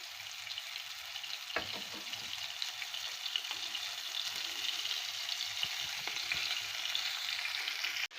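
Beef liver in starch and wheat breading sizzles and crackles in a hot pan over medium heat, a steady frying hiss with occasional sharper pops, close up.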